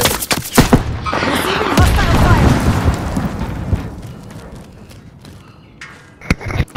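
Bursts of gunfire and explosive booms in the video game Call of Duty: Modern Warfare, loud and dense at first, then easing off before sharp shots return, with players talking over the action.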